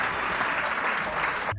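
A burst of studio-style applause cued in a television comedy show rolls on steadily as a full, bright clatter of many hands, then cuts off abruptly at the end.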